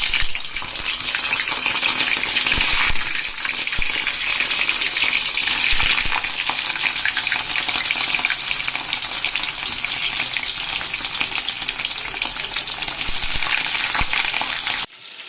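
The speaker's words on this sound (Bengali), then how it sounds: "তো এবার পনিরটাকে ভেজে নেব" Paneer frying in hot oil in a kadai over a gas flame, a loud, steady crackling sizzle that continues close up throughout with no talking.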